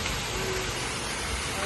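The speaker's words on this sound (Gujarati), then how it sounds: "કેટલો ફાસ્ટ વરસાદ આવ્યો છે" Heavy rain pours down steadily as a dense, even hiss with no letup, close and fairly loud on a day of continuous rainfall; a faint voice may sit underneath.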